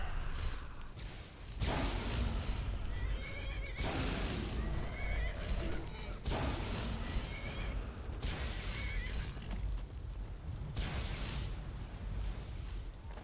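In the video game Skyrim, loud horse whinnies and neighs repeat every couple of seconds over a dense rumbling, whooshing background, with no clear hoofbeat rhythm.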